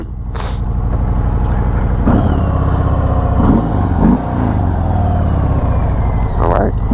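A 2021 Harley-Davidson Sport Glide motorcycle idles close by with a deep, steady low rumble and a few small surges in throttle, loud and continuous throughout.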